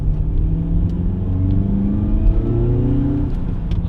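VW MK8 GTI / Golf R accelerating hard as the turbo boost builds, a rising engine drone with climbing harmonics and a steady rumble, close and loud throughout, no voices.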